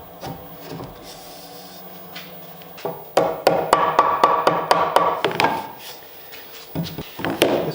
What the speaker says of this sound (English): just use my dado stack to create the tenon